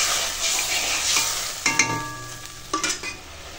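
Water poured onto a sizzling, fried chili spice paste in a pan for a fish curry, a loud hiss and crackle with a couple of sharp spoon knocks and scrapes, close up, no voices.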